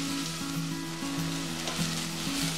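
Chopped leek and onion frying for porrusalda, a dense, steady sizzle crackling loudly in the pan from close range, continuous throughout with a faint tonal hum beneath and no voices.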